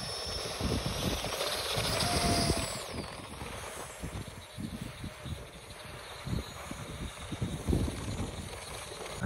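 A small 3D printed hovercraft driven by EDF fans, steered by servo flaps, whooshes along outdoors with a steady airy roar and gusting rises and dips as it darts around.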